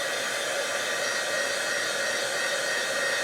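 A hair dryer blows steadily on grunge paste spread over a phone cover, a continuous loud airy whoosh with an even motor hum that holds unchanged throughout, with no talking.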